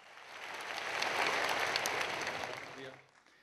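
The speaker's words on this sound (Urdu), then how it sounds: "لیڈیز اینڈ جینٹلمین، آپ کی بھرپور تالیوں میں" An audience applauds to welcome a speaker at a government youth laptop scheme launch event. The clapping swells to a steady, dense crowd sound, holds, then fades out near the end.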